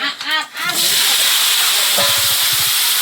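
Potatoes drop into hot oil and burst into a loud, steady sizzle that carries on to the end, with a few low thumps and clatter near the end. A voice speaks briefly just before the potatoes go in.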